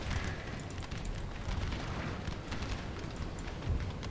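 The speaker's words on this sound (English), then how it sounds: "can my cannons stop firing?" Cannons firing in a Napoleon: Total War battle, a dense continuous rumble of overlapping booms and crackling blasts, loud and steady throughout with no talk.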